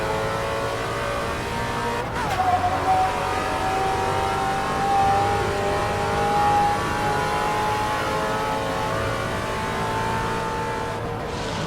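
Vintage Trans Am race car from the AC Legends mod in Assetto Corsa, engine droning loud and steady at high revs with a sustained whining tone as it runs through a fast downhill corner.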